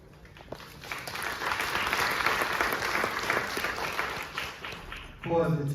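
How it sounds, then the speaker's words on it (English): An audience at a Q&A with a film's cast and crew breaks into applause that swells quickly and holds as a full, dense clatter of hands, then fades as a voice resumes at the end. "Paused intentionally hoping that you would clap."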